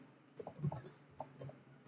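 Keyboard typing during a Python coding lesson, a quick run of light, scattered key clicks with uneven rhythm, close and fairly quiet, with no talk over it.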